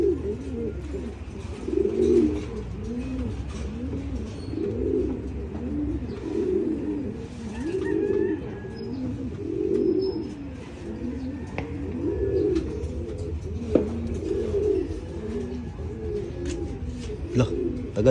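Pigeons or doves cooing outdoors under a clear sky, a soft repeated low coo phrase rolling on steadily, with faint chirps and scattered noises around it.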